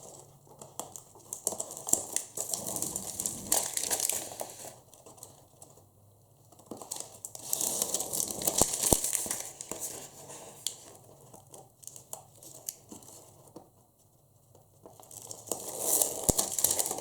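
Adhesive tape peels slowly off folded paper for a portfolio album, giving close crackling, crinkly rasps in long stretches separated by brief quiet gaps.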